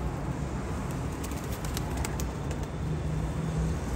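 Teddy pigeons in a breeder's loft give soft, low cooing under a steady background hiss, with a few brief clicks and flutters scattered through.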